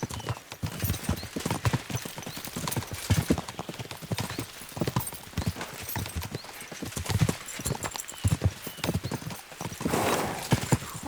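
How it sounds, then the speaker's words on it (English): Horses gallop in the medieval video game Kingdom Come: Deliverance II, a loud, steady drumming of hoofbeats throughout with an occasional whinny, and no talk over it. "We should spur the horses on."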